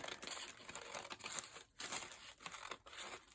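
Paper is cut with blunt scissors close up, crisp crinkly snips and rustles coming in short bursts with brief pauses, quiet overall.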